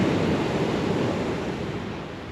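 Pacific Ocean waves and surf rolling onto a shore near a stranded cement ship, a steady broadband wash that stays loud and continuous, easing slightly toward the end, with no voices.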